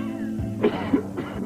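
A dry, hacking cough in a cough medicine commercial comes as two or three harsh, close bursts, loud and alone.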